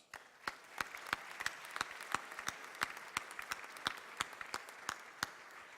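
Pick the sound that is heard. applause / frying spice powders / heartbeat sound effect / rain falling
applause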